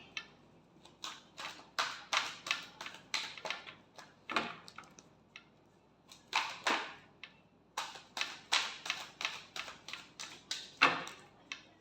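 Tarot cards shuffled by hand during a reading, a run of quick crisp riffling taps in two bursts with a short pause between, close and clear, no talking over them.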